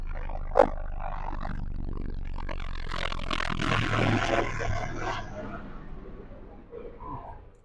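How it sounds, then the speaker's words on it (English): A medical helicopter's rumbling roar swells overhead and gradually fades, with a brief sharp knock early on and a voice talking underneath. "I think that's a medic helicopter"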